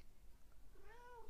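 A cat lets out a single drawn-out meow near the end, rising then falling, faint against a steady background hiss.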